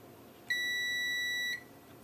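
A single clean electronic beep, about one second long and steady in pitch, sounds from a multimeter continuity test probing a Nintendo Switch board during soldering repair, fairly faint against a quiet background.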